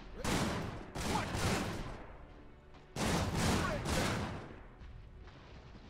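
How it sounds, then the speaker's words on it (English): Bursts of gunfire and explosions from the real-time strategy war game Iron Harvest, two loud volleys of rapid shots about two seconds apart with sustained battle noise between them. "Our position is under fire!"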